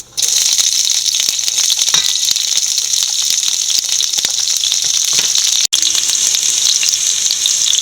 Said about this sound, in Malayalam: കടുക് പൊട്ടിയ ശേഷം ആദ്യം പച്ചമുളക് ഇട്ട് കൊടുക്കാം.